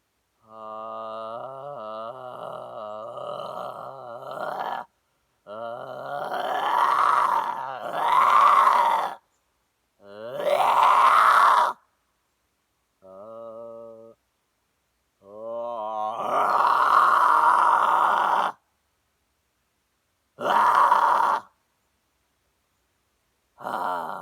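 A voice starts in an ordinary talking tone with a throaty groan, then breaks into several harsh, raspy black metal screams in long bursts separated by silences, loud and close.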